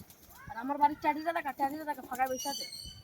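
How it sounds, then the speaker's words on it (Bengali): Pigeons coo in a rhythmic series of throaty, rolling calls, close and moderately loud, with a faint flutter of wings near the end. "এই যে পায়রাগুলো দেখুন"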